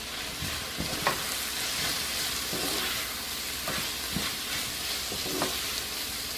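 Pork ragu with Italian seasoning and fennel sizzles in a hot pan, a continuous hiss broken by several soft scraping stirs, with no talking.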